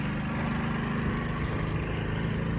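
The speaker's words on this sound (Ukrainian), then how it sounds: "Отако світло світить, моторчик грає." An old scooter from the last century idles with a steady, buzzing small-engine putter, close and continuous at a fairly even pitch, with no voices.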